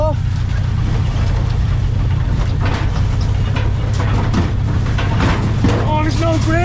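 A 1970s Volkswagen Beetle, long abandoned, drives in gear on its first run in over twenty years. Its engine holds a steady, loud low drone, and voices talk over it toward the end.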